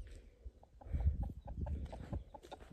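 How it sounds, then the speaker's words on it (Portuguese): Chickens cluck in short, repeated bursts around an old country house, fairly close and moderately loud, with a low rumble of background noise underneath. "as galinhas."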